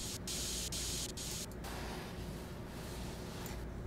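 Spray paint hisses steadily onto a PC case panel in PC Building Simulator 2, a continuous broadband spray with brief pauses early on, fairly quiet and with no talking.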